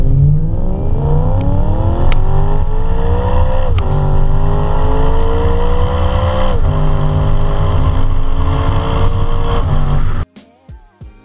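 A BMW E92 M3 with a cross-plane crank V8 revs hard and loud, its pitch climbing in long sweeps toward a high scream with brief shift dips, close and continuous before cutting off abruptly near the end.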